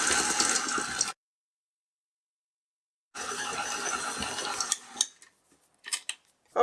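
Electric mixer churning cookie dough with nuts for holiday cookies, a steady mechanical whir with rattling clatter that runs about a second, stops, then resumes before trailing off into scattered clicks and knocks.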